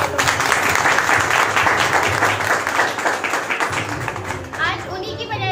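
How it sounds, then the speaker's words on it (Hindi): A large indoor audience claps loudly and continuously for several seconds, the dense applause mixed with excited chatter and children's voices before it thins out at the end. "उनके लिए जबरदस्त ताली चाहूंगी।"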